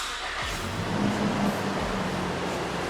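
A Toyota Fortuner 2.7 petrol 4x4 fires up with a quick crank and settles into a smooth, low, fairly quiet idle hum that continues steadily.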